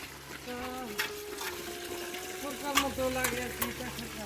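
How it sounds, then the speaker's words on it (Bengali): Spring water from the hills pours steadily from a pipe into a government-built tank, a low continuous splashing under people talking close by. "এই ট্যাঙ্কিতে পানি কি সব সময় পড়ে?"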